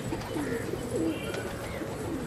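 Gola pigeons coo softly in a loft, with a few low, rounded calls close by over steady background noise.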